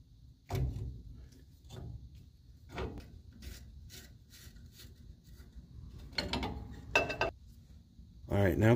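A ratchet clicks in short bursts close up while nuts come off a brake bracket on a 1969 Ford Econoline, mixed with metallic taps and rubbing, and a louder clatter near the end.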